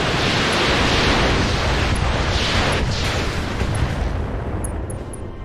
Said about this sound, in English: with a massive volley of LRMs.